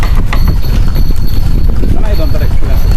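An old horse-drawn cart rolls along to a steady clip-clop of hooves, loud and close, with rattling and voices mixed over the rhythmic beat.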